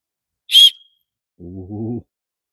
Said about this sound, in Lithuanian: Švilpia kaip turi būti.